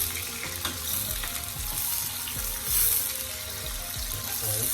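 Seasoning frying in a pan while being stirred for sweet and sour pork, a continuous close sizzle with scraping stir strokes and soft clatter, no voices.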